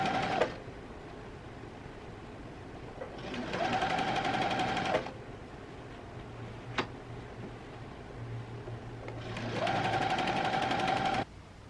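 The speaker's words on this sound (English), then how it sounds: "You're just going to fold it once and twice and then sew along the edge." Sewing machine stitching along a folded skirt hem, two loud bursts of rapid whirring stitching a few seconds long separated by a quieter pause with light handling noises, close by.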